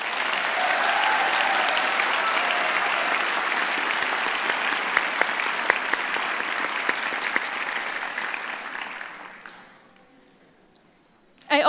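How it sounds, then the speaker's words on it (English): Sustained audience applause fills a college graduation ceremony hall, a dense steady wash of clapping from a large crowd that fades out over the last couple of seconds, leaving near silence. "family, and friends a big round of applause"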